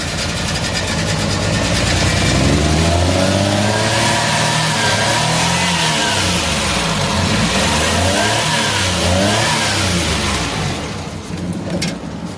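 A car engine, just started, runs loudly and close, revving up and down steadily with continuous drone and shifting pitch, no talking.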